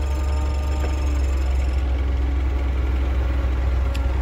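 Toyota 6FG15 forklift engine idling cold, a steady low drone with a smooth, even hum that holds unchanged throughout.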